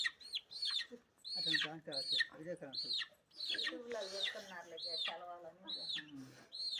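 Free-range country chickens cluck and call in a yard, a series of close, sharp squawks and short clucks in irregular bursts, with faint talk mixed in.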